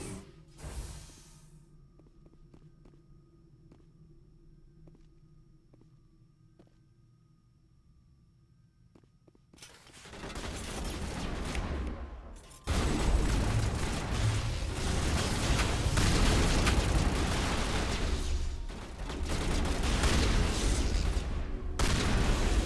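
Mass Effect gunfire erupts after a quiet stretch of faint clicks, then sustained loud bursts of shots and booming blasts fill the rest, dense and continuous with short gaps.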